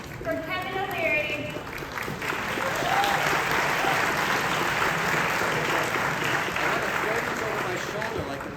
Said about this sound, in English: Can we give another round of applause for Kevin O'Leary?